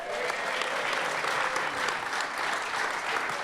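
Sustained applause from a live comedy show audience, dense steady clapping filling the room without pause, with no voices standing out.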